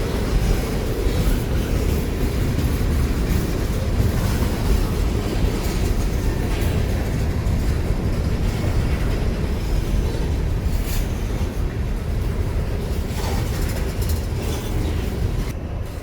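A Burlington Northern coal hopper train rolls past close by, a loud continuous rumble and rattle of freight cars that holds steady throughout with no voices.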